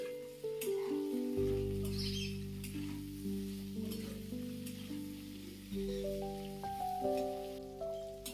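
Salted mixed vegetables fry in a pan, giving a continuous hiss and crackle with occasional stirring scrapes, overlaid by a steady tonal hum that shifts pitch.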